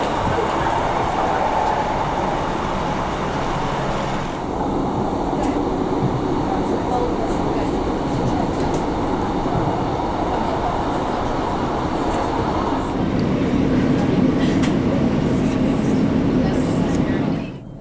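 Continuous rumble and rattle of a train interior as it slows pulling into Sunderland station, with a steady mechanical drone throughout and someone speaking over it.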